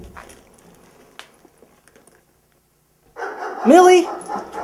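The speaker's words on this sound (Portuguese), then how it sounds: "Millie começa a latir ferozmente" A dog named Millie in a cave gives a sharp bark with rising yelps after a quiet stretch with faint sounds, loud and close.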